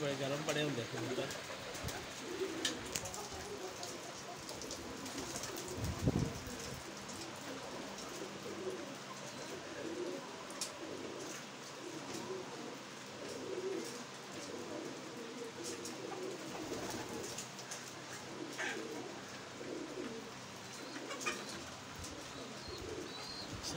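Soft cooing from several pairs of pigeons over a low, rustling background, with a voice faintly audible at times.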